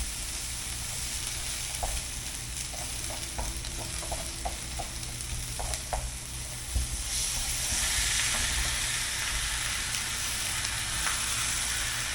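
Vegetables sizzle steadily in a hot pan as a side for roast pork or chicken, a constant frying hiss with scattered utensil clicks in the first half and a brighter, louder hiss later on.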